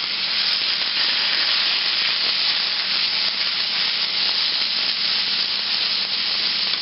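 A spoon stirring spinach as it wilts in a frying pan, producing a loud, continuous broadband sizzling scrape that holds steady throughout.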